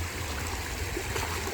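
River current rushing over slippery rocks at a stream crossing, a steady close broadband wash of flowing water with no voices.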